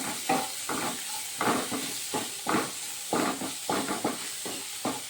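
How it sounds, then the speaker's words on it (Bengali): Spices frying in a pan of oil while cooking palak paneer give a steady close sizzle, broken by repeated bursts of stirring and scraping in an uneven rhythm, with no voices. "মশলাগুলোকে একটু ভেজে নেব"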